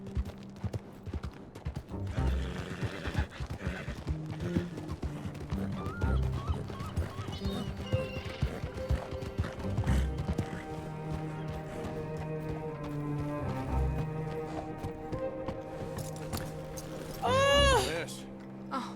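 Horse hooves clip-clop along a street amid a busy, music-laden scene, with a brief whinny-like cry near the end; people talk throughout over the hoofbeats.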